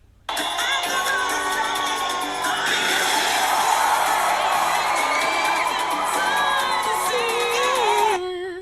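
Large crowd cheering and whooping at a concert in A Goofy Movie, a loud sustained roar with shouts and yells that starts abruptly and cuts off just as suddenly.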